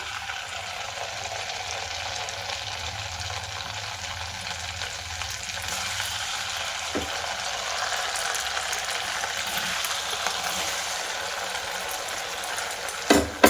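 Semolina boondi fries in hot oil as an even, continuous sizzle that holds steady throughout, ending with a couple of sharper knocks.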